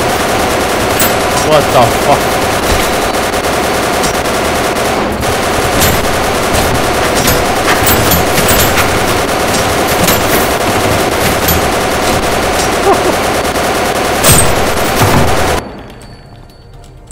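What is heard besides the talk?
machine gun fire in video game Kinki Reimukyoku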